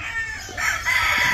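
A rooster crows at a gamefowl training farm, a loud, close, drawn-out call swelling through the second half after a brief lead-in, with faint clucking from other fowl around it.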